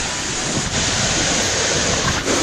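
Rushing water from a tall waterfall at Alimbuyao Falls in Bolinao roars as a dense, loud, continuous wash. Wind buffets the microphone, with no voices present.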